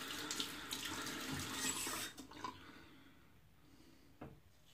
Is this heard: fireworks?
no